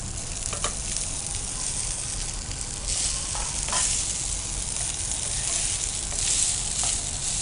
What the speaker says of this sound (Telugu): మనం ఇప్పుడు యాడ్ చేసిన మిరపకాయలు కూడా మంచిగా ఫ్రై అయిపోతుంది